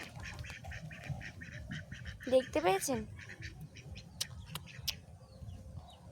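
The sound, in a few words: ducks quacking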